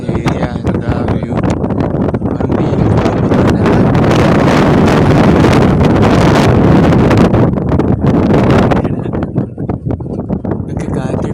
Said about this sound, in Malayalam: ഇതൊക്കെ കാറ്റടിച്ചതിൻ്റെ സൗണ്ട് കേട്ടിട്ടുണ്ടാവും